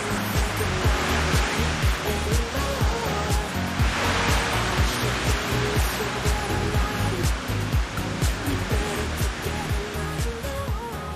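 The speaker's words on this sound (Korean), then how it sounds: "평화로운 해변을 걸으며 파도 소리를 듣는 여유." Ocean waves on a beach in Salvador, Brazil, a steady broad rushing wash of surf with gentle swells, continuous and fairly loud with no voices.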